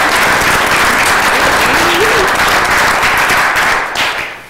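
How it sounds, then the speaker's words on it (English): Spectators at a school swimming and diving awards ceremony give a brief, loud round of applause for the academic all-state team, dense clapping that tapers off at the end. "Quick clap."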